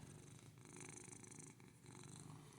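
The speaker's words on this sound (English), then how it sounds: "She is a purr machine." A foster cat purrs close up, a soft continuous rumbling purr with a steady rhythm of breaths, quiet and alone.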